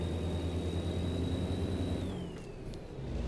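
Kenworth W900B truck with a 510 PACCAR engine in American Truck Simulator, a steady low engine drone with a thin high whine that holds level and then drops in pitch as the revs ease off.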